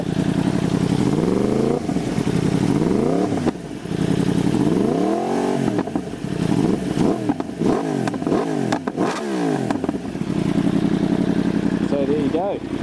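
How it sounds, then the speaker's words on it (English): A Yamaha R1 motorcycle with an Akrapovic link pipe and the factory slip-on exhaust idles close by, then blips through a series of quick revs that rise and fall. A voice can be heard alongside the engine. "That's the sound with the factory slip-on and the Akrapovic link pipe."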